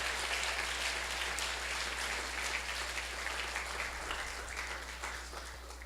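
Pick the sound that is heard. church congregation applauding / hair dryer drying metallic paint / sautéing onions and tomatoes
church congregation applauding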